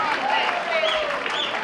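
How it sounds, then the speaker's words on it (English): Audience applauding a dancing couple at a hospice charity dance show, a thick, continuous burst of clapping heard fairly close, with a voice faintly underneath. "Give them a round of applause, Simon and Vicky."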